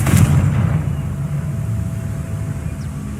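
A Confringo blasting spell explodes in Hogwarts Legacy with a loud, deep boom at the start, then a rumbling low roar that slowly fades.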